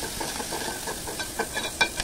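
Onions frying in a pan with turmeric and salt for a quick aloo sabzi, giving a steady close sizzle with light stirring scrapes near the end.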